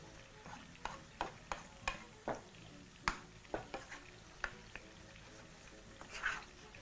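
Thick ugali dough of brown flour being folded and turned with a spoon in a pot, giving soft irregular scrapes and knocks at close range with a faint sizzle underneath and no talking.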